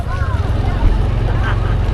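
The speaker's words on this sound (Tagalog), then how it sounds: "Ayun pala motor yun." A motor runs with a loud, steady low rumble on a road trip to Calayo, Batangas, holding a continuous droning tone throughout while voices talk faintly beneath it.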